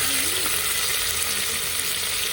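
Coriander dropped into hot oil sizzles in a steady, loud hiss that holds evenly throughout, close up and alone without any voices.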